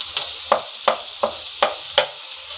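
Rice grains being dry-fried in a pan while a spice mix is prepared, with soft sizzling and six evenly spaced scraping stirs of a spoon against the pan, close by.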